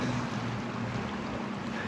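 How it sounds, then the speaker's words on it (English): Steady roar of ocean waves and wind at Jupiter Inlet, Florida, where the inlet meets the sea, a constant broadband wash with wind buffeting the microphone. "Check out those waves out there."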